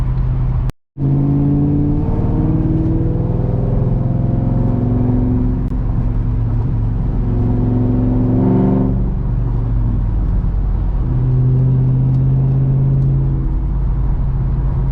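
A 2001 SVT Cobra with 4.10 gears makes a hard acceleration pull, its engine revving up through repeated rising sweeps with pauses at the shifts. It is loud and close throughout, with no talking.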